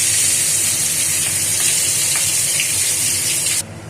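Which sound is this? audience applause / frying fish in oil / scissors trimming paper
frying fish in oil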